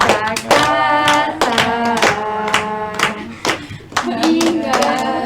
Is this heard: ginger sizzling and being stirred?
no